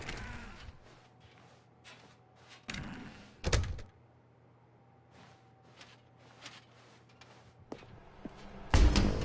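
Doors in The Stanley Parable 2 video game, several hollow thunks and a sharper slam spaced irregularly over near silence, close and fairly loud, ending with a heavier impact.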